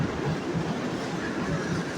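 Train cars rolling along the rails in a steady low rumble, heard from inside the first car of a passenger train, continuous and fairly loud with no talking.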